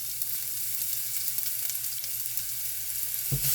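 Two cloves of crushed garlic fry in hot oil with asafoetida, a steady close hiss and fine crackle with a low hum beneath and a soft knock near the end.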